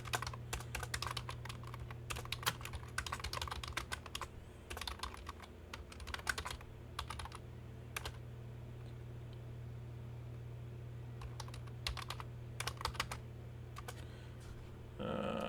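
Quick bursts of key clicks on a computer keyboard as a book title is typed, irregular clusters of taps separated by short pauses over a steady low hum, close and fairly quiet.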